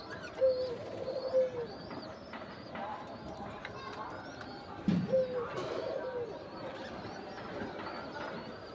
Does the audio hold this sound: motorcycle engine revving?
no